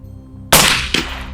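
A single loud rifle shot cracks sharply, followed by a quick echo off distant terrain and a low steady hum underneath.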